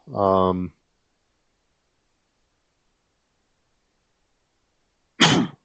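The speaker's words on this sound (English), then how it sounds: "Just had a little cough to deal with." A short voiced burst at the start, then silence, then a brief harsh cough near the end, close and fairly loud.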